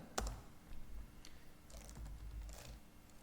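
Scattered keyboard key clicks in irregular bursts, fairly quiet, with a low background hum and no talking.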